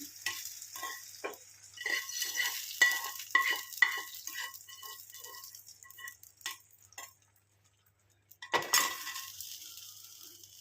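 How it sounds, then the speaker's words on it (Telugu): Spices tempering in hot oil for a bottle gourd tamarind stew sizzle close by while a spoon stirs and clinks against the pan in quick bursts, then a short quiet gap before another burst of sizzling and scraping. "పోపు పెట్టేసాను"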